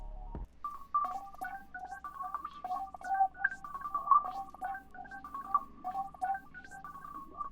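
Serum synth pluck preset Geo the Pluck from the Sunboy Anti-Hero Bank, playing a bright melodic line of quick notes over a low sustained bass, alone with no talk.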